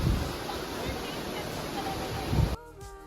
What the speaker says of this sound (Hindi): और बैकड्रॉप में तेजी से बहते हुए पानी की आवाज को फील करिए।